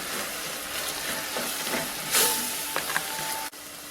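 A tomato and chili masala for capsicum gravy fries in a pan, giving a steady close sizzle and hiss with a few brief stirring scrapes and clinks.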